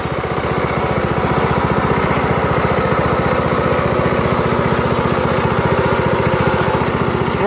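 A Predator 212cc horizontal shaft engine idling steadily, close and loud, with an even, rapid chugging pulse that holds for the whole stretch and no talking.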